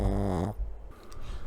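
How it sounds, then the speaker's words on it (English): A pet snoring nearby, with a heavy, rumbling, harmonic breath that stops midway and gives way to softer snuffling, nasal breathing noise. "she has been, like, snoring nonstop this whole time"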